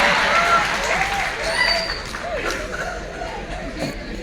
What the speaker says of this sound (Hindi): ये वही ताली बजा रहे हैं